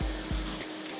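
Potato strips deep-frying in hot oil on a second fry for crispness, a steady broadband sizzle with a couple of low bubbling bursts near the start, close and continuous, with no voices.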